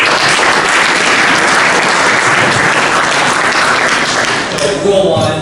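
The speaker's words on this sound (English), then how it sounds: "let's give Ted a big round of applause" Audience applause fills a hall at a coaching and teaching summit, dense and loud continuous clapping that fades slightly near the end, with a voice briefly mixed in.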